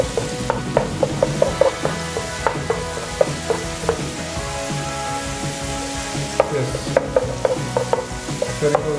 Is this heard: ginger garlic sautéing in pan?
yes